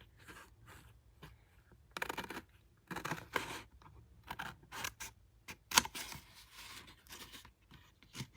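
Paper card being cut with scissors for embossed cardmaking, a series of quiet, close snips and scratchy slices spaced irregularly across the clip, with soft rustling of the card between cuts.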